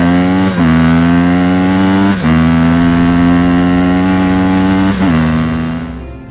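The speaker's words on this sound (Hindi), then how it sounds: "तभी बाबा और बुल्ली बाइक लेकर वहाँ पर पहुँचते हैं।" A loud, steady cartoon motorcycle engine drone with a buzzing harmonic tone, dipping briefly a few times like gear shifts, ending with a fade.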